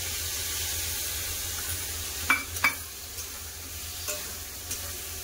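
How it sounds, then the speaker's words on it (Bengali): Spiced paste hitting frying potatoes and ridge gourd in a pan, a steady low sizzle with a few sharp clinks and stirring scrapes partway through, close and moderately quiet. "এবার গুলে রাখা মশলাটা দিয়ে দেবো।"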